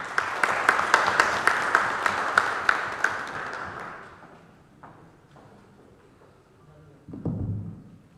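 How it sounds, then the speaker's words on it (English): Audience applause at an international humanist conference in Melbourne, following an address by Tamil Nadu Chief Minister M.K. Stalin, rings out briskly at first with a few sharp individual claps, then thins and fades over several seconds; a brief bump of noise follows near the end. "Once again, a big round of applause to Honorable Chief Minister of Tamil Nadu, Mr. M.K. Stalin, for his address"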